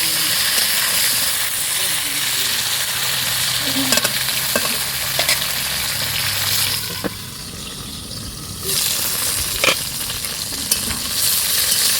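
Potato and vegetable stalks fry in a pan with a loud, continuous sizzle, punctuated by spatula scrapes and knocks; the hiss briefly drops lower midway before returning.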